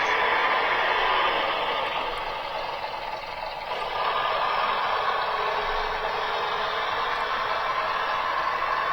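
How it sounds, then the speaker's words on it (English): A bubble car engine runs steadily as the small car pulls away, a constant mid-range motor drone at close range with a slight dip partway through before settling back to an even hum. "time for the bubble car to make its progress"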